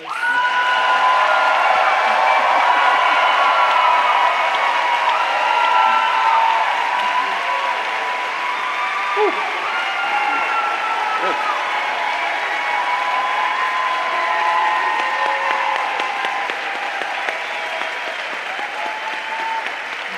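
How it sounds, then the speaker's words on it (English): Raucous audience applause for Angela Davis at a university speaker event, a sustained dense wash of clapping with whoops and cheers rising throughout, loud and continuous for about twenty seconds. "give Angela Davis a raucous round of applause"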